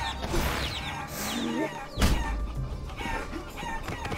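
A chicken clucks and crows repeatedly at close range, with a louder sudden burst partway through, amid background household noise and no clear talking.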